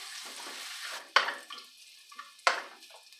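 Chopped garlic and cumin seeds frying in a pan: soft crackling sizzle punctuated by two sharp utensil clinks against the pan, close and fairly quiet, with no talking.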